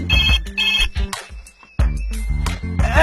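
A mobile phone ringtone plays loudly and close, a melodic electronic tune with a short pause before it resumes.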